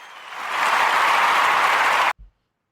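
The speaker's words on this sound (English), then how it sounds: "Can I get a hand clap with that?" Church congregation clapping hands, a round of applause that swells quickly, holds steady and loud, then cuts off abruptly.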